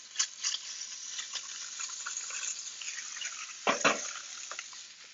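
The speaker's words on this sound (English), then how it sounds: "Now we're going to drain our oil off" Hot oil poured off a seared steak pan, a soft sizzle with scattered crackles and a brief louder hiss and clatter near the end, no voices.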